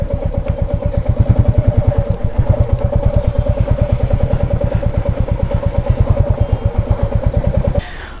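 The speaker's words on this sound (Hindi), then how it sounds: "हमने बाइक यहीं पर लगाई दुकान के पास" A motorcycle engine idles loudly and close by near a shop, a steady rapid thumping putter that runs for several seconds and then cuts off abruptly near the end.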